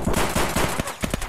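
Rapid bursts of gunfire from the video game Escape From Tarkov, loud and dense, with overlapping shots crackling in quick irregular succession throughout.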